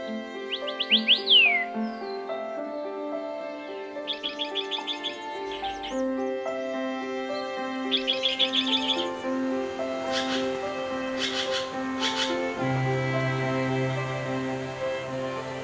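Several birds sing and chirp in quick bright trills and whistles over a layered bed of sustained music.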